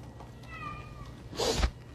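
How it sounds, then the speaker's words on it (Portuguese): Several of seven house cats meow at the door, a few faint tonal calls followed by a louder, brighter burst near the end, heard alone without talk. "Eu tenho 7 gatos, eles sempre vão estar aqui na porta, miando e tudo mais."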